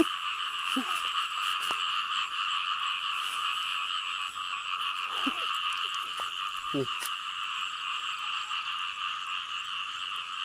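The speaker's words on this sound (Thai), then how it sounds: "กบโคม มาแล้ว" Frogs in a rice field at night croak in a dense, continuous high chorus, a steady pulsing drone close to the listener, with a few scattered nearby croaks and handling sounds over it.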